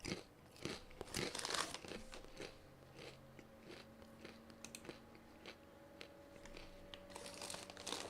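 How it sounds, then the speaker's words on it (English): Someone eats something crunchy close to the microphone, with irregular crisp bites and chewing crackles that are loudest early on and continue more softly over a faint steady background tone. "Crunchy sound making you hungry."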